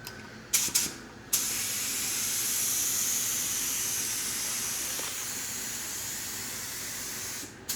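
A spray gun painting a 1960s Dodge D100 Sweptline truck hisses in a long continuous burst after a few short test sprays, loud and steady before cutting off, then a brief final puff.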